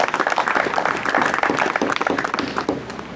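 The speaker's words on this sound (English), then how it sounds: "So I'd put a round of applause for everybody." Applause from an audience at an invitational event, a dense, fairly loud patter of many hands clapping steadily for about three seconds, with no voices over it.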